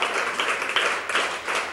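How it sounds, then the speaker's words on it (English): Brief burst of scattered clapping and applause on a call-in radio show, uneven and fairly close, fading in and out over a couple of seconds. "Round of applause."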